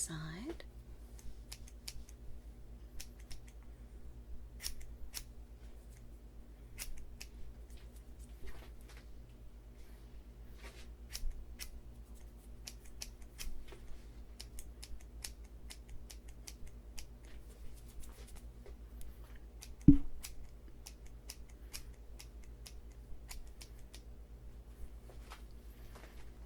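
Quiet, close scissor snips cutting hair in an ASMR salon role play come as scattered short crisp clicks over a low hum across a long stretch, with soft talk at times.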